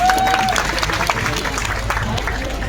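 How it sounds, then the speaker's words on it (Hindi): A crowd gives loud applause for Dimple Yadav at an outdoor Samajwadi Party rally, sustained clapping under a low hum with a brief whistle-like tone at the start. "जोरदार तालियां हो जाए डिंपल जी के लिए"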